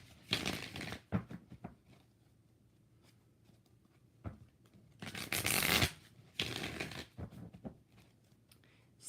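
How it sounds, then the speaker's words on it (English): Tarot cards being shuffled during a free live reading, with several distinct riffling bursts separated by short pauses and softer handling rustles; close and fairly quiet, no talking. "2 more shuffles."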